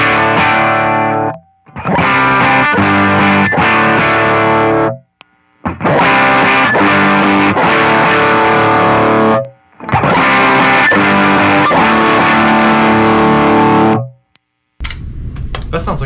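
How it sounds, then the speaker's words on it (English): Heavily overdriven electric guitar through several stacked overdrive pedals, thick and saturated, playing chord phrases in four loud bursts separated by short silences, with a brief noise at the end. "So all of the drives together would sound like this."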